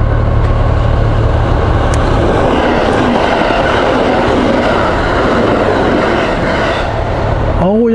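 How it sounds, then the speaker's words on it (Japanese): A Kintetsu train, an express bound for Aoyamacho, thunders past close by a level crossing, a loud continuous rumble with rattling wheels and clatter that lasts the whole stretch. "やっぱり近鉄の車両です。"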